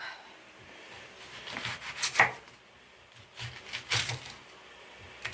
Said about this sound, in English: So let's cut these onions up.